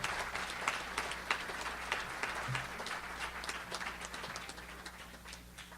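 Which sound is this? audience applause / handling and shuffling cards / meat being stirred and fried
audience applause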